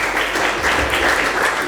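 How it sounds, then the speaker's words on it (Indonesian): A church congregation clapping for God during a sermon, a brief burst of loud, close, continuous applause with a faint rhythmic pulse. "Kasih tepuk tangan untuk Tuhan."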